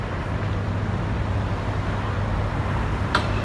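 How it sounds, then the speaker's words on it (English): Steady roar of road traffic passing nearby in Cardiff, a constant broadband rumble with a low hum underneath and no talking. "And you can hear all the passing traffic in the background."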